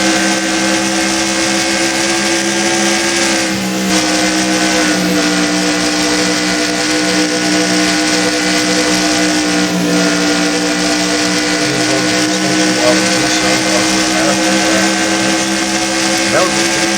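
Onboard a NAPRA Holley HP Cup race car during a Can-Am Duel race, the engine drones loud and steady at high revs throughout, with small shifts in pitch and no talking.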